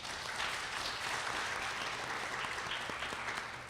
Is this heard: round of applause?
yes